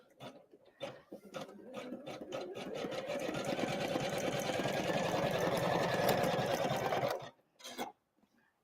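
An embroidery machine sewing a blanket stitch around a Christmas card, a steady close mechanical whir that speeds into a dense continuous hum after a few separate stitches, then stops, with a short burst afterward.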